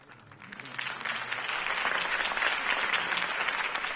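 Steady applause from a large crowd in the video game Batman: The Telltale Series, swelling slightly and holding strong throughout, with faint murmuring underneath.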